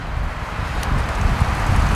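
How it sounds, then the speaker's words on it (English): Steady, heavy wind buffeting the microphone with a low rumbling roar throughout, gusting slightly louder toward the end. "there is a lot of wind coming through here today"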